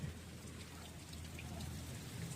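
Steady rain patters and hisses on a surface, a soft continuous wash of drops with a low rumble beneath, no voices.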